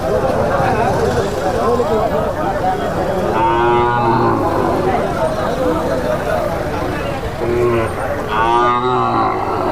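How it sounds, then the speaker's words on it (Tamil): Cattle moo at a native cattle market, several drawn-out calls over a busy, loud background of crowd murmur and people talking. "இன்னும் அந்த பக்கம் கொஞ்சம் மாடுங்க இருக்குது"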